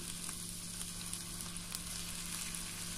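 Beef pieces browning in hot oil in a stew pot, a steady, dense sizzle that holds loud and even throughout with small crackling pops over it.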